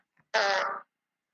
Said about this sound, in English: I give you some more fart sounds